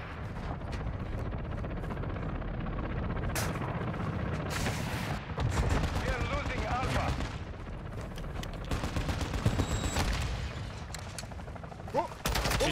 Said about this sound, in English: Oh, he naded me, nice nade.